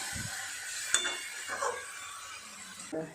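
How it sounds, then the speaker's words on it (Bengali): Chicken being stir-fried (kosha) in a pan, with a few scattered spatula scrapes and clinks over a faint, low sizzle, close by and fairly quiet. "আর মাংসটা কষিয়ে নেবো। ভালো করে কষাতে হবে অনেকক্ষণ সময় নিয়ে।"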